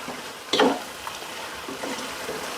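Chicken sautéing in a pan for biryani sizzles steadily up close, broken by one sharp stirring scrape early on and a few softer clatters afterward, with no one speaking.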